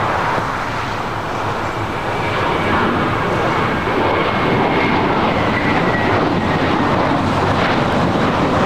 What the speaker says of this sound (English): That was JetBlue Airways Flight 2188 heading to Boston in the A321.